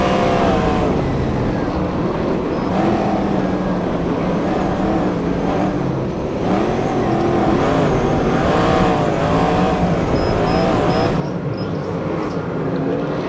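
USAC National and CRA sprint cars race on the Perris oval during the Oval Nationals, their engines roaring loud and continuous as they pass, with the pitch rising and falling under the steady din.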